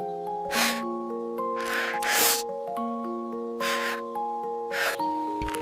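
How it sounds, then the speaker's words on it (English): Quick, breathy inhales and exhales come in about five bursts over soft, sustained musical tones, fairly close and without speech. "The breathing grows faster and faster."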